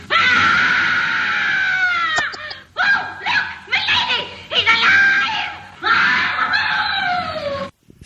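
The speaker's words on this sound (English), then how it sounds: "She gives like a goofy scream at the end of it." A woman in The Bride of Frankenstein lets out a long, loud, shrill scream, followed by agitated exclaiming, and ends with another drawn-out goofy wailing holler.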